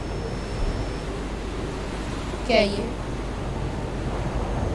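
Water and waves in Fortnite make a steady rushing wash that holds evenly throughout, while a player's voice briefly speaks over it.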